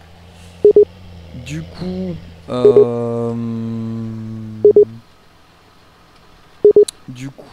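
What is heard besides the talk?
telephone busy signal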